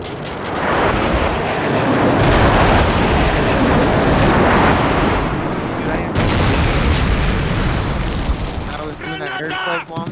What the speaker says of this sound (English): Frenzy airstrike on the way!